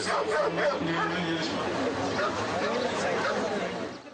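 Dogs bark and yip repeatedly while a crowd chatters around them at a dog breed standards show, the barking mixed into a busy, lively background.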